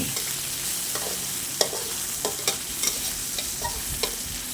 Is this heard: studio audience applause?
no